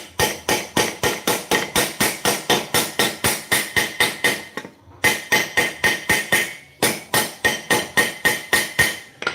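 A steel blade laid on cement is struck by a hammer again and again in a fast, even rhythm, with sharp ringing metallic hits. Two short pauses break the run of blows.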